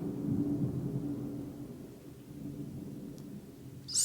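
Low rolling thunder rumbles steadily through a storm heard from indoors inside a house at night, a deep continuous murmur that fades slightly midway before a brief sharp crackle at the end.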